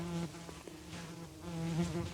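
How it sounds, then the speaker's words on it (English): Bees buzz close around a photographer standing outdoors, a faint, steady droning hum that wavers in pitch as they fly past, with no talk. "There are a fair amount of bees right where I'm standing"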